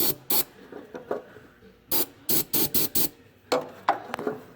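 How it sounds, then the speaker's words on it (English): Carburetor cleaner sprayed onto a diesel engine dipstick during a 7.3 Powerstroke O-ring repair: a series of short, sharp aerosol hisses, some single and some in quick clusters, close and loud against a quiet shop. "What we're going to do is take carburetor cleaner. We're going to clean this."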